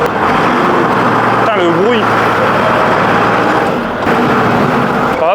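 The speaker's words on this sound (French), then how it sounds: "Fais gratter le tracteur. Putain, le bruit." A farm tractor engine runs close and loud, a steady low drone throughout, with people talking over it.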